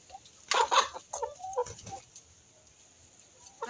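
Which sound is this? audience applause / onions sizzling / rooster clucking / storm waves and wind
rooster clucking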